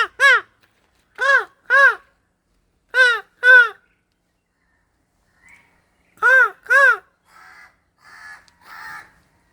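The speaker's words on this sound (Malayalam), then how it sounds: "ഇങ്ങനെ പല സൗണ്ടിൽ ഞാൻ കാക്കേനെ വിളിക്കുമ്പോൾ കാക്ക എല്ലാം കൂടെ പറന്നു വരുന്നുണ്ട്" Crows caw back in several bursts of two or three harsh, loud calls spread across the stretch, with short quiet gaps between them and a few fainter, rougher calls near the end.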